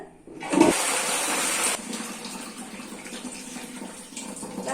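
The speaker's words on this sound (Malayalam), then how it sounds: "ഒന്ന് വെറുതെ ഒന്ന് ഫ്ലഷ് ചെയ്യുന്നതേ ഉള്ളൂ" A toilet flushing after being cleaned with bilimbi fruit: a sudden loud rushing surge of water that eases into a gurgling, refilling wash, heard close and alone.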